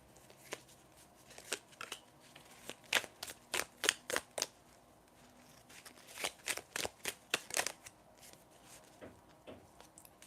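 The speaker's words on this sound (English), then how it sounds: "I'm going to shuffle to get some tea leaf cards for you." Tarot cards are shuffled in several quick bursts of riffling snaps, each burst a rapid series of crisp slaps with short pauses between, close and fairly quiet.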